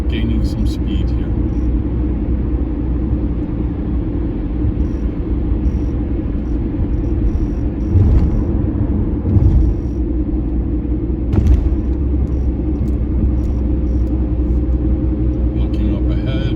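A car on New York's Verrazzano Bridge gives off a steady, loud low-pitched rumble of engine and road noise as it gradually gains speed, with a few thumps over the drone.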